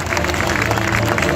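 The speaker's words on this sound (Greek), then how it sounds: "Ένα δυνατό χειροκρότημα ακόμα για αυτήν την εξαιρετική ομάδα." An audience gives a team a long round of applause, dense and steady, with crowd noise mixed in throughout.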